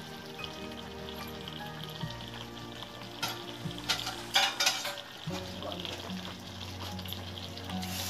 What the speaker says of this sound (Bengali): ভাজা জিরার গুঁড়া গরম মশলা একসাথে আমরা এভাবে দেওয়ার পর এটাকে মিক্স করে নিচ্ছি